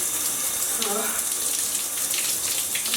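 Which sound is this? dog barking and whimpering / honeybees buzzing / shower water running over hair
shower water running over hair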